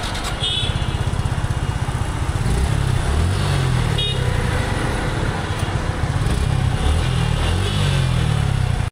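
A Suzuki Gixxer Fi ABS motorcycle with about 4,500 km on it idles close by, its single-cylinder engine thrumming in a steady, even pulse that runs without a break, with faint traffic noise in the background.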